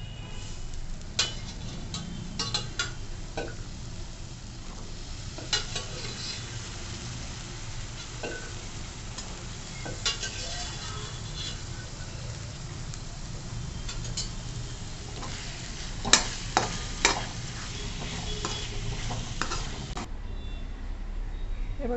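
Cooked chickpeas stirred into a frying onion-tomato masala for chana masala, a quiet sizzle beneath scattered spoon clacks and scrapes, with a cluster of sharper knocks near the end.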